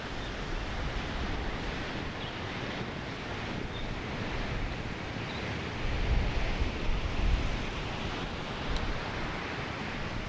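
Ocean waves at a beach, a continuous broad roar of surf mixed with wind rush, swelling louder around the middle before settling back, with no voices.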